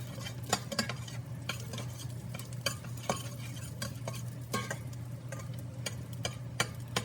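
A cinnamon stick, two cloves and a bay leaf fry in a pan for tomato soup, faint and quiet, with soft scraping and tapping as a utensil stirs the spices over a steady low sizzle.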